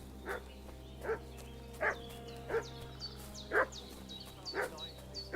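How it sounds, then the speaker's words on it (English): Dog barking in the video game Kingdom Come Deliverance 2, a series of about seven sharp barks at steady intervals, moderately distant over a low ambient hum. "What's that dog making such a fuss about?"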